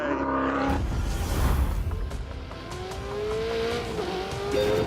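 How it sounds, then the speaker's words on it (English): Ferrari 488 lapping a track in a racing video game, its engine loud and continuous with rising gear-change pitch sweeps and a hint of tire squeal. "we've got a bit of a performance benchmark, a Ferrari 488"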